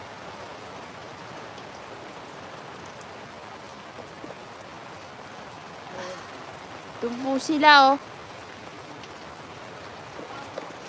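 Steady rain falls on a farm near a hut as a storm approaches, a constant soft hiss throughout, with a voice speaking briefly near the end.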